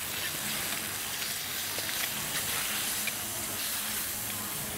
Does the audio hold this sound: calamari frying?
yes